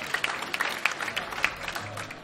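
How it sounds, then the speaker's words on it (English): Applause from a small group after a business pitch, sparse clapping with a few distinct sharp claps standing out, moderate in level and fading toward the end. "Round of applause, everybody"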